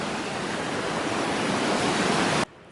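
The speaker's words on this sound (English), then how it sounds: "Good little stream from all the snow melt." A small stream of snowmelt water rushes steadily and close by along a Pacific Crest Trail hiking route, a constant broadband wash that cuts off abruptly at the end.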